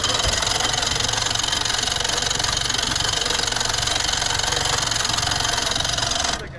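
A boat's outboard motor runs steadily up close at sea off Iran's Persian Gulf coast, a constant buzzing drone from a faulty engine that cuts off abruptly at the end.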